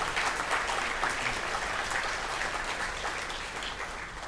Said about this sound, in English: I would request the audience to give a big round of applause to the entire organizing committee.